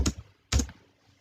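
Commands are typed on a computer keyboard, two close, distinct key clicks or thumps spaced about half a second apart, with quiet between them.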